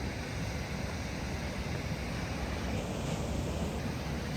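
Continuous broadband roar of sea waves at Padubidri beach, steady and fairly faint with wind noise mixed in, with no distinct individual breakers.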